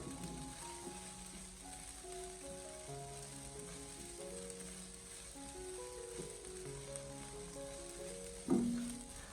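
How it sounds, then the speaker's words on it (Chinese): Egg fried rice being stir-fried quickly with light soy sauce in a hot wok, a steady soft sizzle running throughout beneath faint background music, with a sharper clatter near the end. "我们立刻马上将其快速的翻炒，把调料翻炒均匀"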